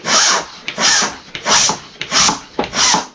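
A pump inflates a tubeless Maxxis High Roller II 27.5 x 2.40 mountain bike tire, making five rhythmic, evenly spaced rasping strokes of rushing air close by.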